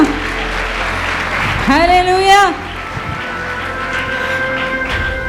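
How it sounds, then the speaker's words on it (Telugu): A church congregation at a prayer meeting keeps up a steady wash of applause, with a single voice rising briefly above it partway through. "చప్పట్లు కొడదామా"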